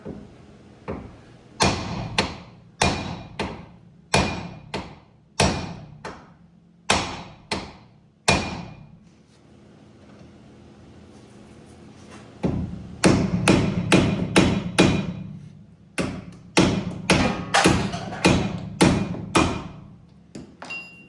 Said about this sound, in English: you can hit it with a hammer on the side here, right on the side of this